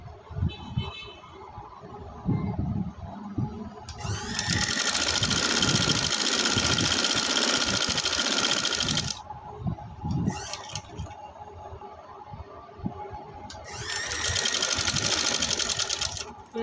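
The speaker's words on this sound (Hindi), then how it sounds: "अब हम इसको सिलाई लगाएंगे यहाँ से" A sewing machine stitches a fabric sleeve in two loud, steady runs of rapid whirring, each lasting several seconds, separated by quieter fabric handling and brief starts.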